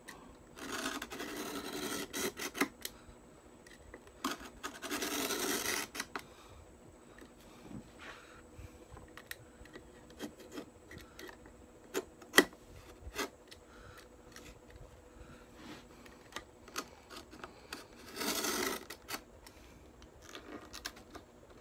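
A blade edge is drawn in a few short raspy strokes along a homemade stropping block on a rough workbench, quiet bursts separated by long near-silent pauses.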